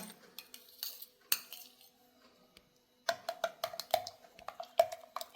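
Fenugreek mix stirred into melted soap base, light clinks and taps of a spoon against a container in irregular bursts, quiet and close, with a short pause midway.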